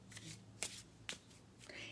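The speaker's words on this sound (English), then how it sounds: "I'm taking the main deck here. I'm going to shuffle a little more." A deck of tarot cards is shuffled by hand at close range, with soft riffling rustles broken by a few sharp card snaps. No one speaks.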